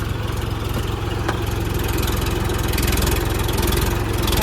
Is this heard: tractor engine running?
yes